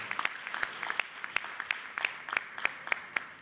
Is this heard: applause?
yes